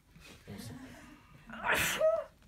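A sudden, loud sneeze bursts out after a soft intake of breath, close to the listener, with faint voice sounds before it.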